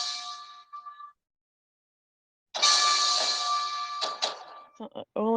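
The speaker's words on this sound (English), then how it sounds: "All I hear is the bell." A bell rings with bright, sustained metallic tones in two bursts separated by a silent gap, the later burst louder and ending in several sharp clangs.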